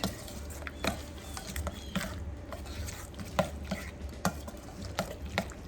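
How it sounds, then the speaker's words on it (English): Macaroni salad with mayonnaise is stirred in a bowl, soft wet squelches and dull knocks of the spoon recurring every second or so, close and moderately quiet, with no talk. "Stir it."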